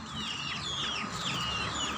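Several chickens cluck and chatter steadily across a farmyard, overlapping calls at moderate distance with a constant background murmur.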